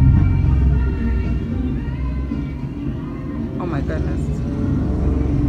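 A loud car roaming outside a home passes with a steady low rumble that swells and fades, while a person talks over it close by.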